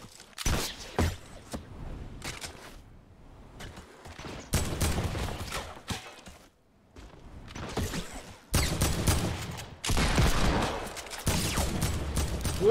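Minigun fire in a Fortnite-style shooter during a duos match on a slide mode, heard as dense bursts of rapid gunfire that start and stop across the stretch, mixed with other game effects and no talking.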